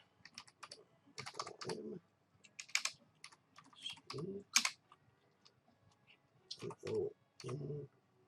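Keys tapped on a computer keyboard while entering a 24-word recovery phrase to restore a Shelley Cardano wallet, bursts of close clicking in clusters separated by short pauses.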